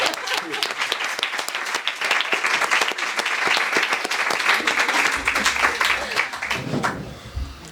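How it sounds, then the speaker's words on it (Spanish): An audience at a panel talk on nature-based therapeutic interventions bursts into sustained clapping, dense and close, fading near the end as a voice begins. "Podemos aplaudir"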